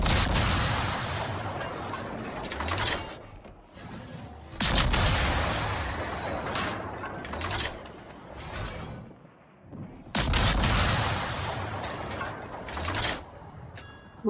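Heavy naval gunfire in a World of Warships battle, with booming salvos in three loud bursts of several seconds each, separated by brief quieter gaps, with rumbling and mechanical clatter between.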